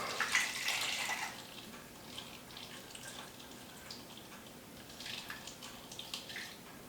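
Liquid, a gari-style fermented ginger solution, pours through a funnel into a jar with a steady near splash that gives way to softer trickles and drips, with no talk.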